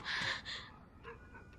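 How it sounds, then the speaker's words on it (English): A dog in The Last of Us gives a couple of short yelping barks close by, then fainter whimpering yips trail off over quiet game ambience. "didn't like that dog anyways"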